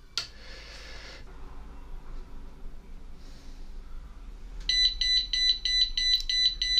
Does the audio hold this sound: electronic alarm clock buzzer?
yes